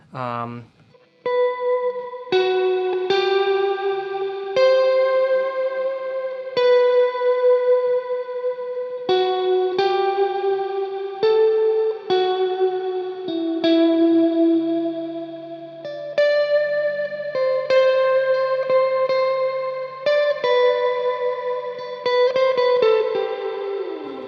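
Single guitar notes through an Atomic Amplifire ring out slowly one after another, each softened and surrounded by a smooth, shimmering wash that blurs the pluck into a sustained glow.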